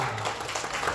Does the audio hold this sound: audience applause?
yes